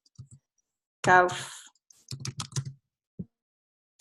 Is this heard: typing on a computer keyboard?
yes